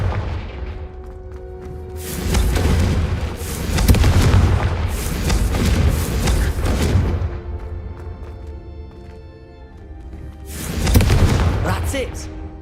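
Repeated Confringo fire-spell blasts from Hogwarts Legacy burst out as loud booming explosions in several waves, separated by quieter stretches, with spell incantations called out between them.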